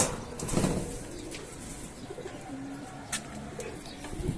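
Pigeons coo low and soft in a loft, with a burst of wing flapping near the start and faint chirps, close and moderately quiet.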